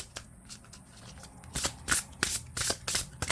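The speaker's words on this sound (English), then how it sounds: "I'm going to give 3 more shuffles while we're deciding." Tarot cards shuffled by hand, a few soft riffles at first, then a rapid run of sharp, close flapping bursts in quick succession, with no talk.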